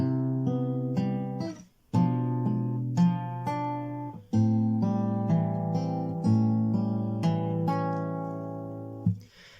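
An acoustic guitar strums chords in a steady pattern, each chord ringing out before the next, with a short pause partway through. No voices are heard.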